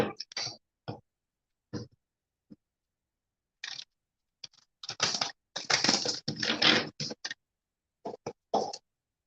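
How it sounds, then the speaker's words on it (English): Quick bursts of a tarot deck being shuffled and riffled close up, in short irregular clusters separated by brief silences. "I'll shuffle this deck for earth signs"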